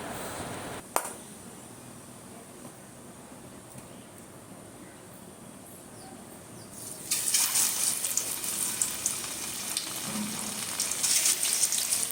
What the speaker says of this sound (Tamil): நான் இந்த சைடு பேனில் ஆயிலை ஊற்றி நான் வந்து பன்னீரை வந்து ஃப்ரை பண்ணி எடுக்க போகிறேன்